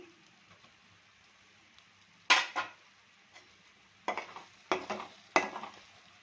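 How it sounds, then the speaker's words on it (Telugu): A spoon scrapes and stirs masala into chicken pickle in a pan, four or five separate bursts of close scraping with short pauses between them over a quiet background. "ముందుగా రెడీ చేసి పెట్టుకున్న మసాలా కూడా వేసుకొని కలుపుకోవాలి"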